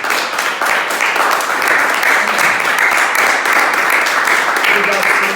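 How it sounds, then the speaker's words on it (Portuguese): A church congregation applauding during a service, loud, sustained clapping from many hands, with voices faintly mixed into the crowd sound. "Vamos dar um forte aplauso ao Senhor Jesus?"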